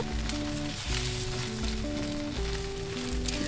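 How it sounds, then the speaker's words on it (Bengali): Beaten egg fries in white oil in a pan, a steady close sizzle over a background of soft music-like tones, with no talk. "সাদা তেলে আমি ফেটে রাখা ডিমটা দিয়ে দিব ডিমটা একদম ভাজা ভাজা করব"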